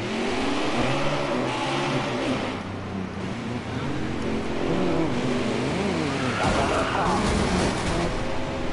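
In the video game NASCAR Heat 5, race car engines roar and rev as a crash unfolds, with a rough impact and a tumbling car among the steady engine noise and a voice talking over it.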